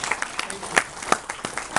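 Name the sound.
audience applause at book launch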